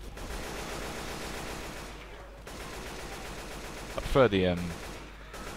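Bursts of gunfire, including shotgun blasts, crackle through the zombie shooter Left 4 Dead, continuous and fairly dense with one louder burst later, while a player briefly speaks over it.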